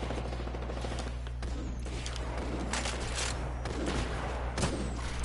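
Rapid gunfire from a video game fight, where the rule is shotguns only, crackles nearly nonstop as a dense volley of sharp blasts over a steady low background hum, with no talking.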